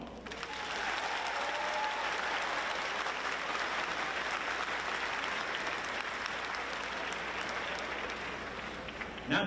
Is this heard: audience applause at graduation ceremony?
yes